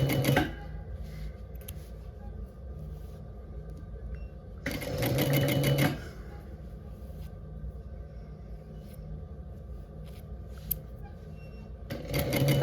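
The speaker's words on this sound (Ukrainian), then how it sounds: "я шию просто через камеру сліпу" A sewing machine runs a three-thread seam along a hoodie shoulder in two short bursts, one mid-way and one at the end, with a quiet room and low hum between them.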